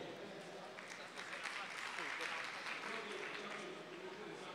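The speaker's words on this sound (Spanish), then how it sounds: "Démosle un fuerte aplauso." Steady, fairly faint applause from a crowd, with dense clapping spread evenly across the whole stretch without a break.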